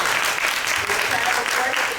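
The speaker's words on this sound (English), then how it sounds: "A loud applause." Brief, loud applause from a housing voucher workshop audience, continuous clapping with voices mixed in underneath.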